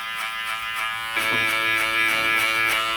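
Electric hair clippers buzzing steadily at close range while cutting a short choppy men's fade, a constant bright hum that grows a little fuller partway through as the blade moves up through the hair.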